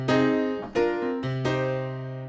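Two sampled pianos layered together, one of them a very bright single-string upright called Giant, play three struck notes or chords, each ringing out with a rich harmonic sustain, loud and close with no talk.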